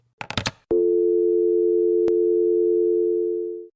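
A telephone handset is set down with a few clattering knocks, then a steady, loud electronic line tone drones for about three seconds before cutting off.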